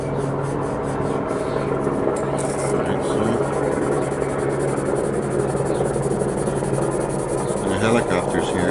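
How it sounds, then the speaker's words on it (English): A helicopter flies overhead in the morning, giving a steady loud rumbling drone that continues for the whole stretch without clear words. "Helicopters here."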